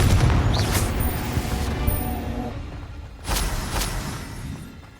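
Explosive blasting spell cast in a fantasy wizarding game, a booming burst at the start fading into a rumbling tail, then a second sharp blast about three seconds later, moderately loud and without talk.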